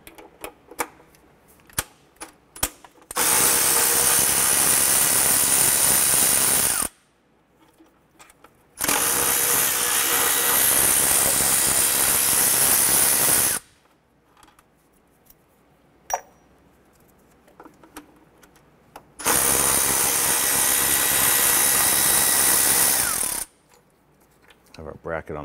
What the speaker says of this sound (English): There are four 12 millimeter bolts holding our throttle body to the intake.